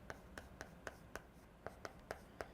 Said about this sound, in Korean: 선생님 여기에다가 행정부 수반이라고 한번 써볼게요.